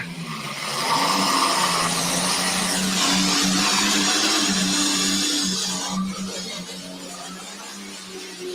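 A 1,710 cubic inch V12 Allison aircraft engine in a racing vehicle roars steadily at high revs, a dense loud drone with a slight drop in pitch toward the end.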